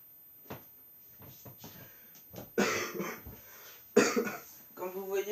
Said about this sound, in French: Comme vous voyez, je tousse un peu.